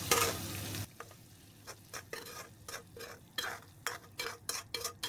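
Garlic frying in oil until golden opens with a brief loud burst of sizzle, then settles into quieter crackle broken by intermittent close scrapes and clinks of a utensil stirring in the pan.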